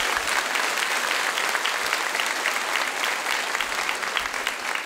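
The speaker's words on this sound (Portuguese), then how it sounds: "Pode aplaudir esse Deus" A church congregation applauds during an evening worship service, a dense, steady wash of many hands clapping that fills the space without letup for several seconds, with no voices rising above it.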